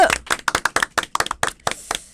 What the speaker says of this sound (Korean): 힘찬 응원의 박수를 한번.